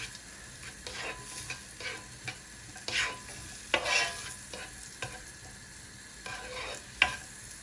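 Thyme sizzles in melted butter in a pan, a soft continuous hiss broken by repeated stirring scrapes and brief louder spits, close and without talk.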